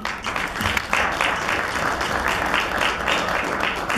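A concert audience in Domodedovo applauds steadily for a touring ensemble, a close, even wash of clapping with little talk.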